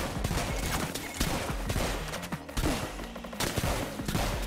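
Rapid, dense gunfire from a zombie-rounds video game crackles in quick bursts close up, with a few louder shots and some brief pauses. Players talk over the shooting.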